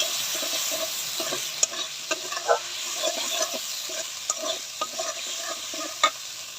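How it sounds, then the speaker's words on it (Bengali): Chili and turmeric powder paste sautéing in a pan for a boal fish curry with sponge gourd, a steady sizzle under repeated spoon scrapes and taps throughout. "মশলাটা ভালো করে কষাই নিব।"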